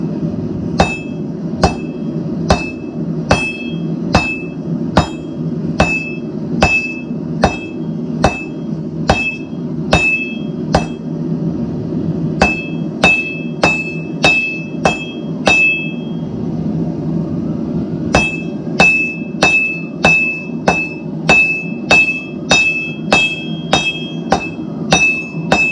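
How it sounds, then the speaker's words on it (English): Blacksmith strikes railroad steel on an anvil with a 4-pound hammer in an open shop, a loud, steady run of ringing metallic blows about twice a second, with a brief pause partway through before the hammering resumes. "the iron's getting cold, so let's get this thing hammered"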